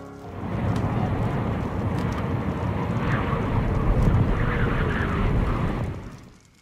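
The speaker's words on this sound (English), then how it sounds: "What a nasty wind." Cartoon wind for a children's animated story, a loud, steady whooshing roar that swells in and holds for several seconds before fading away, with no talking over it.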